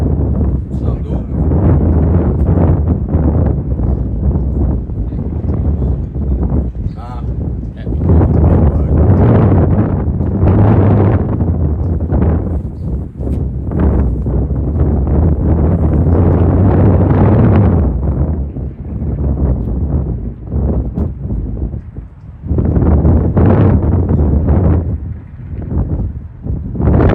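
Strong outdoor wind buffets the microphone in a constant loud, low roar with surges and rumbles throughout, and a voice is partly heard beneath it.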